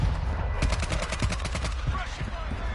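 Rapid automatic fire from the Icarus weapon in a shooter video game crackles in a quick run of shots, loud and close over steady game noise, with a short pause before more firing.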